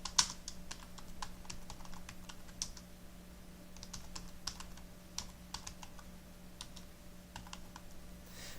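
Someone types steadily on a computer keyboard, a quiet run of irregular close key clicks under a faint electrical hum, with no talking.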